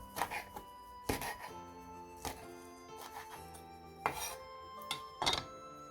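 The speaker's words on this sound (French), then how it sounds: "Puis je coupe finement le piment en billes" Knife chopping chili pepper finely on a board, a handful of separate quiet knocks spaced irregularly over a low background hum.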